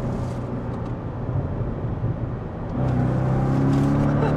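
A Chevrolet C6 Corvette with valved mufflers pulls hard in second gear, heard from inside the car. The exhaust drone is steady and rumbling, and it deepens and grows louder as the engine climbs through the revs.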